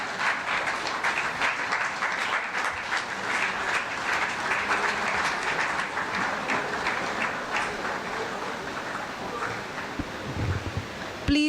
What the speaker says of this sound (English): can we all please stand and have a grand applaud for them